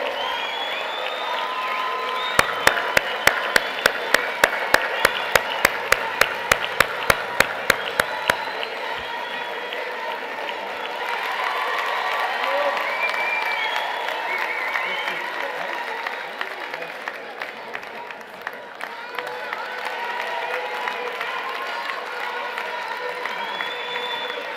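Crowd at a Moroccan political rally for the National Rally of Independents, applauding and cheering, with rhythmic unison clapping early on and a steady wash of cheers and shouts throughout, loud and sustained.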